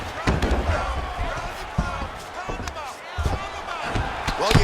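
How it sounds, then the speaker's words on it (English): Thuds and slams from ground-and-pound punches in the EA Sports UFC 4 fighting game, with commentary running over the irregular impacts. "Man, this is some serious ground and pound."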